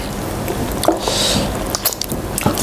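Wet, squishy biting and chewing of spicy chicken feet, close to the mic, with soft crunches and smacking bursts recurring through the short stretch and no talk over it.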